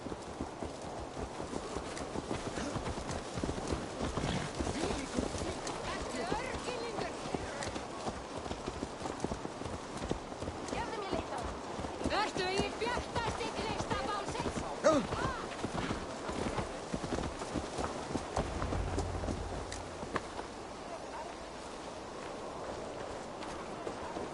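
Steady horse hooves clip-clopping in a video game, a continuous moderately loud walking rhythm lasting the whole stretch, with game ambience underneath.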